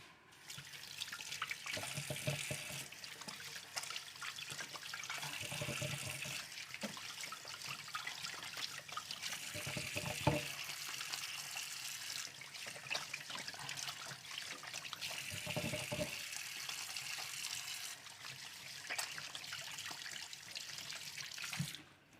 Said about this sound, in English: So I'm just gonna wash my hand as well.